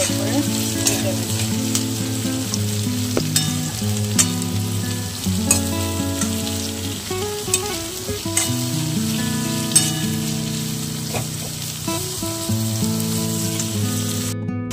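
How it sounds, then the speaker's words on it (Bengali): Onion and green chilies fry in oil with a steady, continuous sizzle that stays close and fairly loud throughout, with occasional soft stirring noises and no talking. "যে তেলটা দিয়েছিলাম সেই তেলটার মধ্যে পেঁয়াজটাকে আর কাঁচা লঙ্কাটাকে খুব ভালো করে ভেজে নেব"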